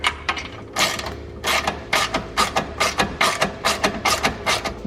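Ratcheting wrench tightening a nut on a differential brace under a Dodge Hellcat, a rapid series of close, regular clicking bursts in a steady rhythm with no talk.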